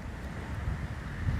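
Wind blows beside Lake Michigan in a park, a steady low rumble buffeting the microphone with no distinct events, faint and continuous throughout.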